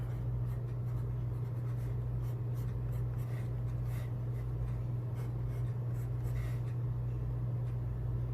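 A fountain pen writes Private Reserve Plum ink onto Lamy notebook 90 GSM quad-ruled paper, a soft steady scratching under constant low background hum, with no talking.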